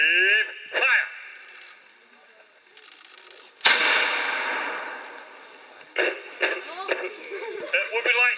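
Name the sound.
re-enactment cannon firing with gunpowder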